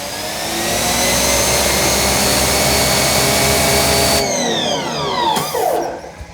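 An EGO HPW3200 cordless pressure washer fitted with a spinning nozzle sprays steadily in a loud, continuous whine-and-hiss, its pitch shifting near the end as the spray changes, with no talking.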